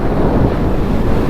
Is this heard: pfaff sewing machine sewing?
no